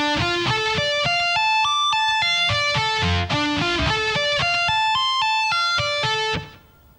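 A slow electric guitar lick rings out alone through distortion, with clear individual notes stepping up and down in a steady run before the last note is cut off into silence.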